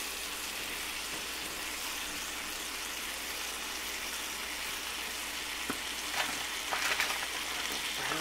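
Steady sizzling of apples grilling on a barbecue with a pumpkin pie spice sauce, a continuous hiss with a few louder crackles and pops near the end, no talk.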